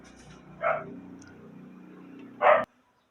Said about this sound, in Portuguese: houve um interrompimentozinho no vídeo, por causa do cachorro que estava fazendo barulho